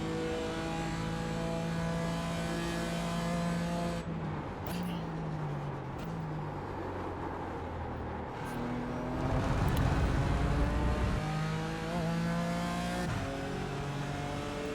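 A BMW M4 GT4 or USF 2000 race car engine in iRacing, steady loud revving with rising and falling pitch through gear changes and braking, close and continuous throughout.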